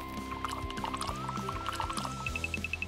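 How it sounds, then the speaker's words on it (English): Fruit punch poured into a bowl, a soft liquid trickle heard under steady background music, close and fairly quiet. "Pour the punch into the bowl."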